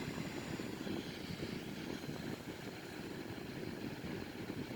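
A Boeing 787 engine in a flight simulator gives a steady, loud broadband roar with a low rumble throughout, winding down without voices.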